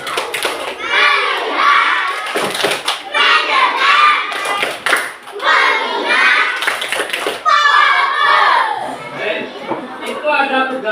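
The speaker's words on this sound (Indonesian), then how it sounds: "Lagi, tepuk bagus." Primary school class of children clapping together in a rhythmic patterned classroom clap, bursts of many small hands in repeated sequences, loud and close, mixed with children's voices and chatter.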